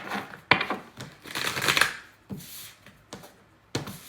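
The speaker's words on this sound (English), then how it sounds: "I'm gonna shuffle." Tarot cards being shuffled by hand, a series of crisp riffling bursts and soft slaps in uneven rhythm, close and clear with quiet gaps between.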